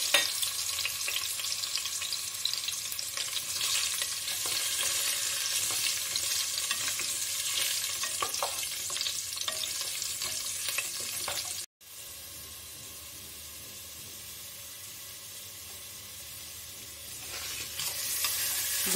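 Pieces of boiled potato frying in hot oil with cinnamon and mace, a loud, continuous close-up sizzle that drops briefly and then carries on steadily, with no voices.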